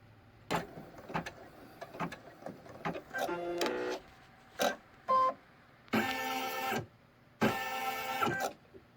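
An embroidery machine stitches vinyl onto a towel topper with rapid mechanical whirring in short bursts, separated by clicks and pauses, then longer sustained stitching runs toward the end.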